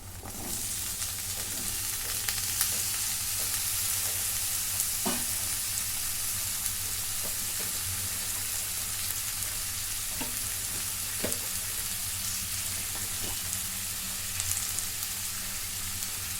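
Bell pepper sizzling and frying steadily in a hot pan for a home-style stuffed capsicum dish, with a continuous crackle and occasional stirring clicks, close and unaccompanied by talk.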